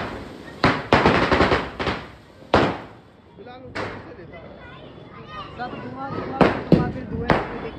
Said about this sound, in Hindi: बम से बम जला रहा